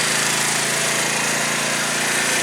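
2012 Tao Tao scooter engine runs close by with a steady, buzzy drone and a dense metallic rattle from a loose muffler heat shield, continuous and loud throughout.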